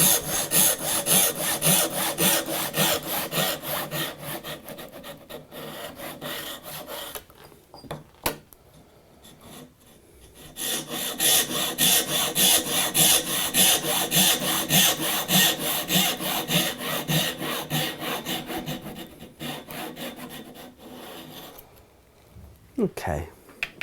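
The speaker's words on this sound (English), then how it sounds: "Let the saw do the work." A hand saw rips through a wooden board held square by a 90-degree magnetic guide, a steady run of rasping back-and-forth strokes, loud and close, pausing midway before resuming.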